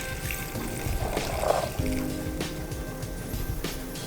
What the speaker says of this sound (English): I'm just gonna pour the sauce.